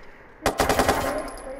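Automatic gunfire from a gun in the video game Watch Dogs 2: a rapid, loud burst of shots that stops abruptly, followed by a short ringing tail.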